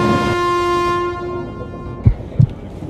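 The Porbandar–Kochuveli Superfast Express pulls into platform one at Thrissur station, its loud sustained horn blaring for about a second before fading into rumbling wheels and two sharp clanks.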